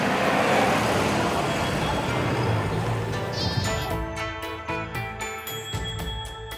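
Sheep and goats bleat in a loose chorus over a steady background rumble, with several calls overlapping in the second half, as herds move between pastures in Mongolia.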